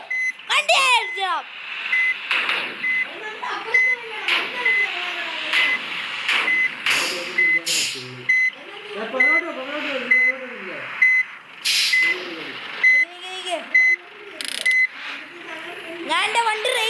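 A vehicle backs up while a steady series of evenly spaced electronic reversing beeps repeats throughout, with people talking loudly nearby over the beeping.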